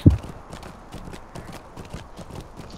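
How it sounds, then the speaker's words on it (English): Horse hooves clip-clop at a steady, even rhythm as a character rides through the online game Lord of the Rings Online, moderately loud and continuous with no talk over them. "I'm on a horse."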